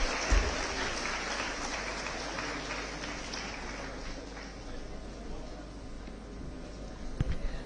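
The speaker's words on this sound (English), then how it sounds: "A huge round of applause" An audience at an evening annual event in a convention hall gives a steady round of applause for a welcomed guest, dense clapping that holds throughout, rising slightly again near the end.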